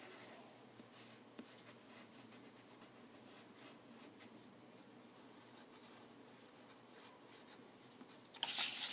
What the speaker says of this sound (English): Shading in everything, getting rid of that white paper.